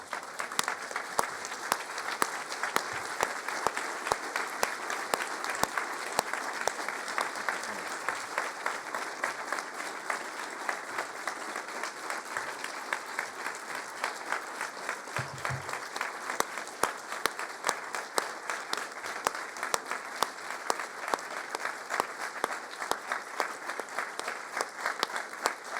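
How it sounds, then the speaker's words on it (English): A lecture audience gives a standing round of applause, sustained, dense clapping from a large crowd that holds steady for nearly half a minute with no speech. "give them a quick round of applause"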